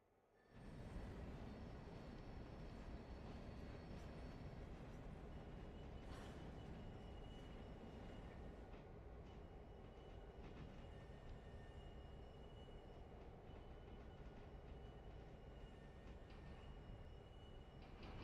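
A heavy freight train with 341,000 pounds of tractive effort runs in the video game Railroader, making a continuous loud rumble with rattling wagons and faint wheel squeal throughout, no talk audible.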